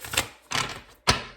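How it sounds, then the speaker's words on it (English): A deck of tarot cards is shuffled in three quick, crisp bursts of flicking cards, each a fraction of a second long and close up, with no voice. "Let me get one more shuffle in"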